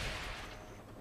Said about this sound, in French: ça c'est une vraie explosion